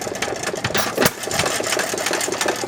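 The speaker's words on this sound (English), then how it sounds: "This is a nice running engine." A 1919 Domestic side shaft hit and miss engine runs close by, giving a steady, fast mechanical chugging and clatter with one louder burst partway through and no talk.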